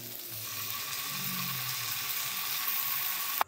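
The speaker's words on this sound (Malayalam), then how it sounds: "നമ്മൾ ക്യാപ്സിക്കും ഒണിയനൊക്കെ ചേർത്തി കഴിഞ്ഞാൽ ഒന്ന് ഇളക്കി കൊടുക്കൽ." Capsicum and onion frying for chilli prawns give a steady, close sizzle with soft stirring scrapes throughout, ending in a sharp knock.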